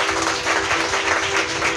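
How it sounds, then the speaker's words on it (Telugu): A church congregation claps together in a steady, dense burst of applause lasting under two seconds, with a faint hum running beneath. "గట్టిగా చప్పట్లు కొట్టు."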